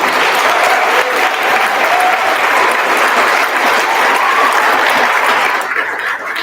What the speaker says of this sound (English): So I would like a quick round of applause, please, for his story.